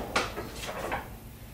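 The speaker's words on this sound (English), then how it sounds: "So you get out the drawers and then you just unfold that." Wooden drawers slide out of the bench in a compact prefab cabin, giving a few quiet scraping rumbles and soft knocks in close succession indoors.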